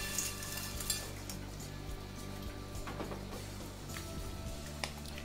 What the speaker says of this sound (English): Now with our water boiling, it's time to add the pasta.